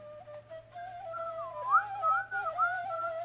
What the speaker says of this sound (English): My terrible whistling